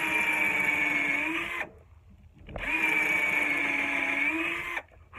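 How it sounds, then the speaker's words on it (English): A power drill bores into the wood of an axe handle inside the axe head to cut out a wedge slot, whining steadily in two long runs with a brief drop in between. "So we're just drilling out"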